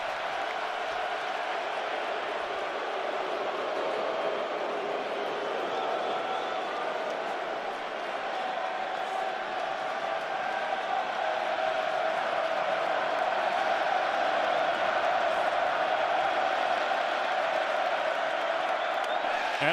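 A packed baseball crowd at Wrigley Field rises and cheers on a 3-0 count in the fifth inning of an NLDS Game 4 playoff, Brewers at Cubs: a steady, dense roar of voices that holds throughout and swells slightly.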